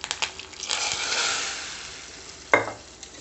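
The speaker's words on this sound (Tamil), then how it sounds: "இந்த கடுகு தாளித்ததை அந்த சாம்பாரில் எடுத்து ஊற்றிடலாம்." Tempered mustard seeds tipped into a pot of radish sambar, giving a burst of sizzling and crackling that builds, fades over a couple of seconds, then a sharp clank near the end.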